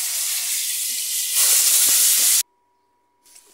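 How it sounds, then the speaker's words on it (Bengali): Vegetables for a fish curry hit very hot oil, giving a loud, hissing sizzle that swells midway and then cuts off abruptly, followed by near silence and a faint return. "তেলটা প্রচণ্ড গরম হয়ে গেছে, এখন ওই যে সবজিগুলো ছাড়বে।"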